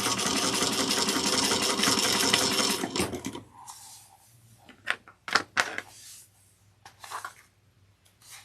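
A sewing machine runs steadily for about three seconds as it stitches down the corners of a handmade bag, then stops, leaving a few scattered clicks and light handling noises.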